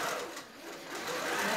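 A Grace QCT5 Pro computer-guided quilting machine stitches a quilt with a steady, continuous mechanical whir and hum that dips slightly midway, heard alone at close range.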